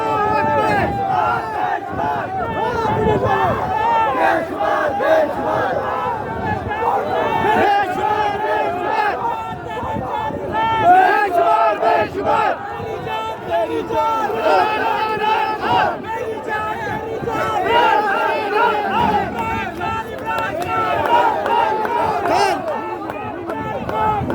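A large crowd chants loudly and continuously, voices massed into a rough, roaring rhythm of repeated religious slogans at a political march for Imran Khan, with shouting and babble layered throughout.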